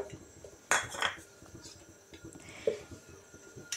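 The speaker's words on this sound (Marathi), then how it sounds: "त्यामध्ये घालूया अर्धी वाटी शेंगदाणे" Half a bowl of peanuts poured into a kadhai on a gas stove for roasting for chivda, giving a sharp clatter near the start, a second rattle, then a few light clinks in a quiet kitchen.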